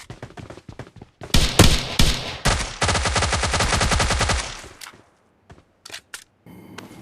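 Gunfire rings out during a fight in PUBG Lite: a few single shots, then a long rapid automatic burst close and loud, followed by scattered lighter shots after a short pause.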